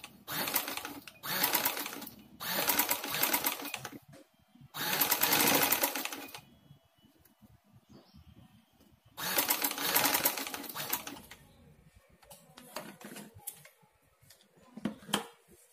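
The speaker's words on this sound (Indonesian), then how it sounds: "Kita jahit kecil di samping garisnya." Dress fabric runs through a sewing machine in several bursts of rapid stitching, each lasting a second or two, separated by quiet pauses and a few short taps near the end.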